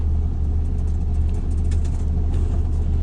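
A tractor-trailer truck creeps forward a couple of feet, its engine a steady, loud low rumble that stays even throughout, close by and with no voices over it.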